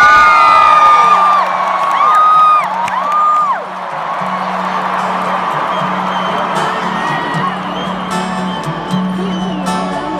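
A concert crowd in Singapore roars and cheers loudly and continuously, a dense wall of whoops and shouts with one voice rising above it, while a low sustained tone runs beneath.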